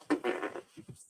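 A voice makes a short, wet, sputtering imitation of a fart, a buzzing burst followed by a few quick puffs, close and fairly quiet.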